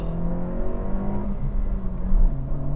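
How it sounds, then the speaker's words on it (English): A 2025 Honda Civic Si with a manual gearbox runs under load from inside the cabin, a steady engine drone that dips and rises as the gears change, with no talking. "I'll try to hustle through first to second here in a little bit to show you how much it does not like being hustled."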